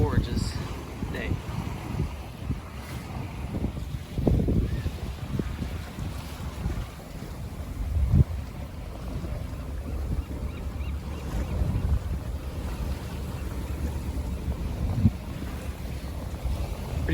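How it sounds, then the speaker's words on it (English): Steady wind rushing past a sailboat on a north breeze behind Alcatraz in San Francisco Bay during a race, a continuous low roar with occasional gusty buffets and faint water sounds, carrying on throughout. "We got the breeze out of the north today."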